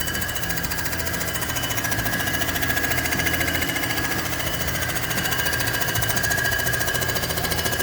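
A Comec ACF200 surfacing machine makes a pass across an AMC 360 cylinder head to flatten the gasket surface, giving a continuous loud rapid chatter with a steady high whine throughout and no talking.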